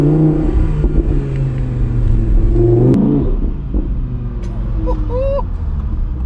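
Audi R8 V10 Spyder in sport mode with manual shifting, engine firing up with a loud rumbling roar that swells, then a sharp rev blip and settling idle.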